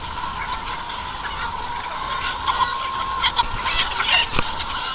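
Pasture-raised chickens cluck and squawk at feeding time, a busy flock murmuring at moderate distance with a few sharper calls near the end. No voices.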